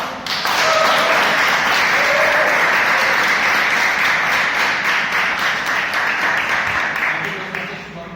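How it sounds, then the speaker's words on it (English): Sustained applause from an audience at a Toastmasters club meeting, many hands clapping together for several seconds, close and full, then tapering off toward the end. "Please let's have a round of applause for Toastmasters International."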